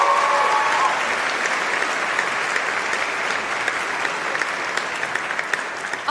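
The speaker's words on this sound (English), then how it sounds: "Another round of applause." An audience at the BAFTA Games Awards applauds after a performance, loud thick clapping that starts strong and thins gradually across the clip, alone with no speech.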